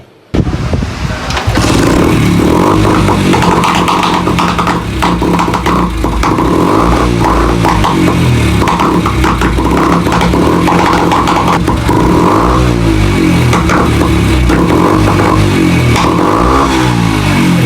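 A Honda CD 70 motorcycle with a replaced silencer revs loudly and steadily at close range, its engine note rising and falling through repeated throttle blips, with no talking over it.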